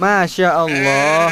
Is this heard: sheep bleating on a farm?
yes